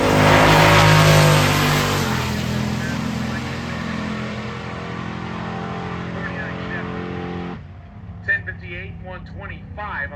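At a drag race, a supercharged GTO launches with a loud engine roar that holds strong for several seconds and then cuts off, leaving faint crowd and track noise with a voice talking over it.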